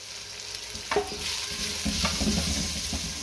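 Tomatoes and green chilies sizzle steadily in a hot pan while a spoon stirs them, giving a continuous frying hiss broken by several scraping strokes close by.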